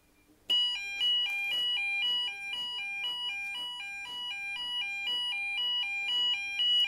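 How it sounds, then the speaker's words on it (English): A latching fire alarm sounds loudly during a system test, beeping in a fast, regular electronic pattern that begins abruptly and continues without pause. "It obviously won't turn off the fire alarm because it's latching."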